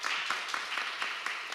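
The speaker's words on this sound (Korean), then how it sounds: "큰 박수로 맞이해 주십시오." A forum audience claps briefly and faintly to welcome a panel speaker, a thin patter of scattered hand claps with no voices over it.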